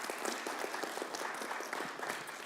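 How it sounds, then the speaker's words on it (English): An audience applauds Barbara Freeman at a social justice forum, a faint, fairly distant patter of clapping that continues steadily throughout. "let's give Barbara Freeman a round of applause"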